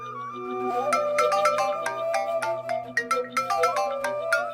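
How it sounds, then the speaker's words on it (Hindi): A phone ringtone plays a bright, repeating electronic melody, loud and close, with no voices over it. "किसका फोन आ गया?"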